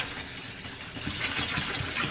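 Tap water runs steadily into a kitchen sink, a soft continuous splashing gush that stays faint and even throughout, with no voices.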